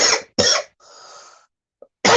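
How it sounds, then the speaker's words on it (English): A person coughs in three sharp bursts close to the mic, the first two back to back, then a pause with a faint breathy hiss before a final harsh cough. "I start coughing."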